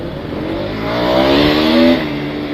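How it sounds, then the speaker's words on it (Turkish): A custom-built 10,000-watt electric bike pulls away, its motor whine rising steadily in pitch and loudness over about two seconds before easing slightly, heard fairly close and alone with no voices. "Evet 200'lük motorla şu an kalkış yapacak."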